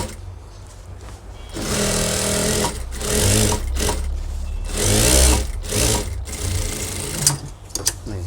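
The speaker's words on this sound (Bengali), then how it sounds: "আমি এখানে দুইটা সেলাই দিয়ে নিব" Sewing machine running double stitch lines on a child's school pants, loud close bursts of rapid stitching separated by short pauses, with no talk over it.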